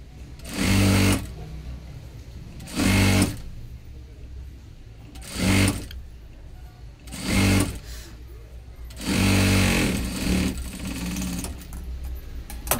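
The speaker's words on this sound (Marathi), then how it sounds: "डबल स्टिच करून घेणार आहे" Sewing machine running in five loud bursts, each one to two seconds long, as blouse sleeves are double-stitched on a 38-size four-tuck blouse, with short quiet pauses between the runs.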